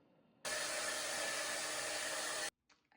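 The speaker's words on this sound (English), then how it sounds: "The hairdryer quit." A hair dryer in a hotel room roars to life with a loud, steady broadband whoosh for about two seconds, then cuts off abruptly, leaving near silence with a faint rustle.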